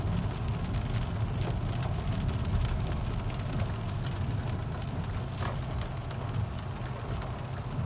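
Heavy rain pours steadily in Canada, a dense continuous roar of drops hitting surfaces, loud and unbroken with no voices.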